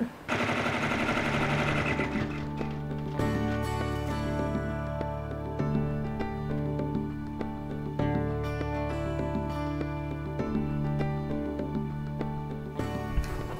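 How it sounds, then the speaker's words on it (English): A machine steadily stitching a quilted appliqué letter in a hoop gives a continuous mechanical whir with rapid rhythmic needle pulses, close and unbroken, pausing briefly near the end. "we'll take it to the machine and let it stitch the next step"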